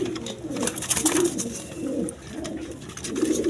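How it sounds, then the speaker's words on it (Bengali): A pair of American fantail pigeons in slate-grey colouring, with a young one nearby, cooing in steady, throaty rolling phrases close by, continuous over a faint background hum, no talk. "এখানে এক পেয়ার ফ্যান্টাল কবুতর আছে"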